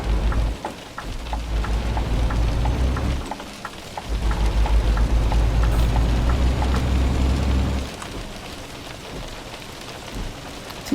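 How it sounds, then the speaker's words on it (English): Steady heavy rain in the Euro Truck Simulator 2 truck-driving game with Promods, a dense hiss drumming throughout over a low engine rumble, with thunder-like swells and a drop in intensity near the end. "Is it me or is the rain getting heavier?"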